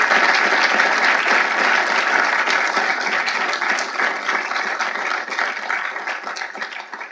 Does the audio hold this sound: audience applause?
yes